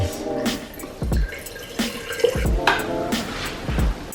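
Water from a Zero water filter drips and trickles in uneven spurts, with irregular splashing drops and small knocks close by, with no voices.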